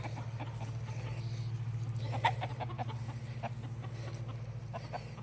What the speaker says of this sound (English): Here's my chickens, my big chickens,